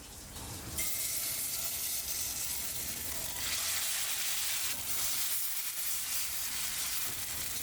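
Gluten-based plant-based chicken shaped like a breast fries in a pan with a steady, close, loud sizzle that runs almost the whole time after a brief start, no talk over it.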